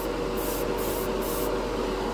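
Spray gun spraying Createx Wicked chrome paint at high air pressure, a steady close hissing blast with the trigger pulsing the spray in short bursts.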